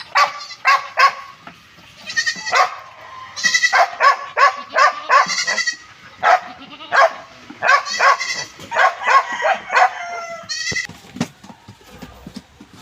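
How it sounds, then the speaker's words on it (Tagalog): A mixed-breed Filipino street dog (askal) barks repeatedly in quick bursts, loud and close, with goats and other animal calls mixed in and short pauses between volleys. "Ayan ang aking asong si Bruno guys"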